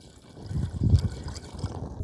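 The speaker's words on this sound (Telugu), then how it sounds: "వాటర్ అయితే పోస్తున్నా" Water pours into a cooking pot at a solo night campsite for Maggi noodles, a soft, close splashing trickle with a brief louder gush in the middle, then settling into a quieter dribble.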